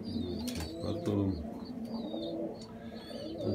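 Pigeons coo repeatedly at close range, with soft throaty calls mixed with faint chirps, and someone talks quietly alongside them.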